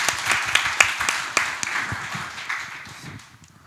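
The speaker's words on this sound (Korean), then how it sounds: "큰 박수로 모시겠습니다." Audience applause greeting the opening panel at the 2024 regional startup ecosystem summit, a broad wash of clapping with sharper individual claps early on, gradually thinning and fading toward the end.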